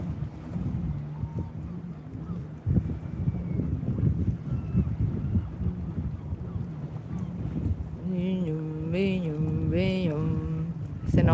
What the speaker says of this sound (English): Them jet skis are going back.